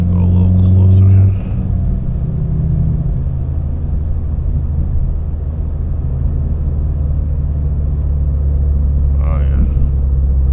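A 10th-generation Honda Civic Si with a quiet, daily-driver exhaust setup gives a steady, deep rumble that runs through the whole stretch, with a brief voice near the start.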